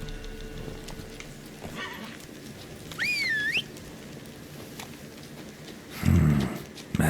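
Roach the horse gallops in The Witcher 3: Wild Hunt, hooves clip-clopping steadily and softly beneath ambient game noise, with a rising whistle-like tone midway and a louder burst near the end.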